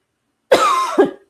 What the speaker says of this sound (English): I'm just going to muffle my cough